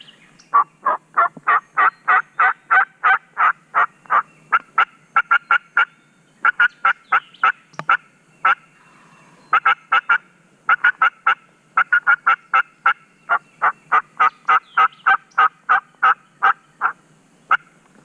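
Wild turkeys in the Mississippi woods during a spring hunt, with a gobbler and a very vocal hen calling loudly and close. Long runs of sharp, rhythmic yelps arrive in repeated series with brief gaps, and no one speaks.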